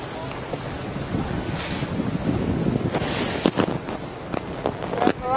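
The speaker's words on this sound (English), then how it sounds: "So windy out there, isn't it" Gusty wind buffets the microphone outdoors near open water at a Gold Coast foiling event, with some brief knocks and faint background activity.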